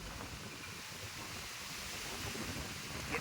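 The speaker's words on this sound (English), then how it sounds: "Getting windy." Steady wind roars as a broad, even rush of noise buffeting the microphone for a few seconds, with no distinct events and no voices.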